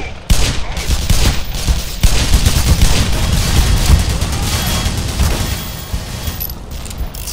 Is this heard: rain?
no